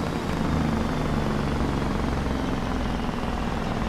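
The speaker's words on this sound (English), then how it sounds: "Listen to the Jake brake on this truck." A heavy truck's Jake brake in Farming Simulator 22 on the Elmcreek map, a steady low engine drone and rumble holding loud and even throughout, with no talk over it.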